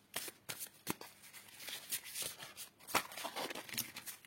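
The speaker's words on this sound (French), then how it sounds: "je commence mon tirage avec l'oracle des fées" Oracle fairy cards shuffled for a tarot reading, a run of soft papery riffles and slaps repeating close by at an uneven pace, with no voices over them.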